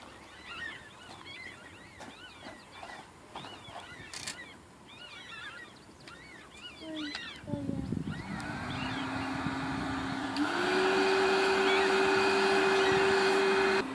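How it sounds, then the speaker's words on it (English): A hair dryer switches on partway through and blows a steady, loud rush of air into a charcoal briquette fire in a container for melting aluminum, following quieter crackling and bird-like background sounds. "I'm going to have my assistant go and turn on the hair dryer."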